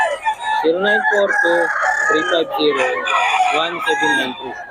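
A rooster crows loudly and repeatedly up close, its strained calls overlapping with clucking hens.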